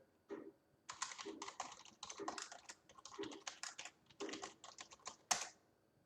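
Rapid bursts of clicky computer keyboard typing at close range as a folder-creation command is entered at the Anaconda Prompt, clustered keystrokes with brief pauses and a single sharper key hit near the end, no talking.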